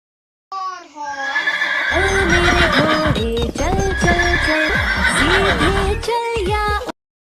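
A horse neighs and whinnies in a long, loud, wavering call with repeated rising and falling pitches, set against a backing of music.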